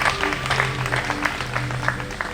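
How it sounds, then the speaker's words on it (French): An audience applauds at a gathering celebrating priestly life, loud scattered clapping mixed with background tones and murmurs, close and continuous. "Applaudissez-vous."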